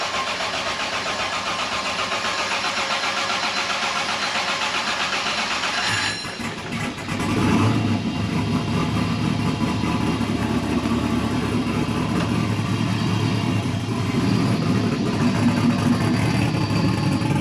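A turbocharged car engine, just refitted with a reworked turbo kit and refilled oil cooler, cranks briefly, catches with a loud burst around six seconds in, then settles into a steady, rumbling idle up close with no talking.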